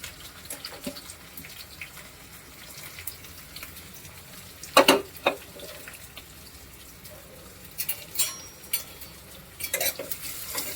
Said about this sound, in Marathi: आता कांदा आपल्याला चांगला भाजून घ्यायचा आहे छानपैकी